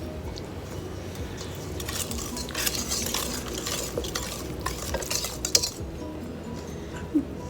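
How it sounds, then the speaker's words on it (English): Keto doughnut batter being mixed in a bowl, with a steady scraping, stirring texture and scattered light clinks of utensil against the bowl throughout, close and moderately loud, no voices. "And now we're gonna mix everything."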